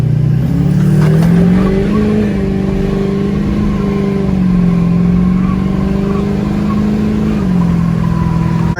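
Chevrolet L5P Duramax diesel truck accelerating hard from a dead stop, a loud close engine roar rising through several gear changes with steady droning pitch climbs.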